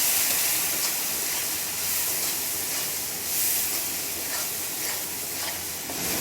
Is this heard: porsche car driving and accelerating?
no